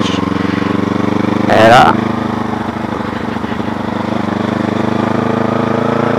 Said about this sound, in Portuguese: O ronco da moto não ficar essas coisas, tá papocando.